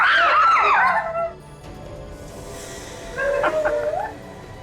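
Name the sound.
people screaming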